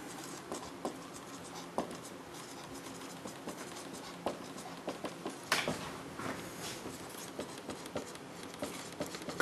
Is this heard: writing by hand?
yes